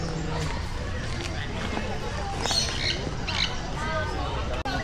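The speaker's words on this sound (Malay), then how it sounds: "Tu burung." Birds squawk in bursts amid a busy outdoor scene in Sekinchan, Selangor, with harsh calls rising over background babble and people talking nearby.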